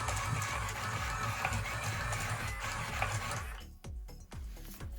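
A YouPai Max III robotic poker dealer dealing cards gives a close, steady mechanical whirring and buzzing, followed by a few sharp clicks and flicks as single cards are shot out.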